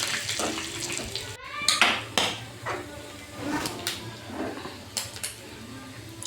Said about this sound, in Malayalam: കറിവേപ്പില ഇട്ട് കൊടുത്ത് കറിയിലേക്ക് ഇത് ഒഴിച്ച് കൊടുക്കാൻ പോവാണേ